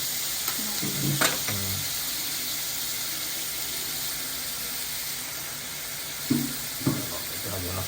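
Tomatoes with salt cook in a pan, giving a steady broadband sizzle throughout, broken by a few brief clinks and short voices in the background.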